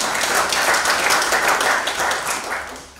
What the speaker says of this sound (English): A round of applause for our glamorous moment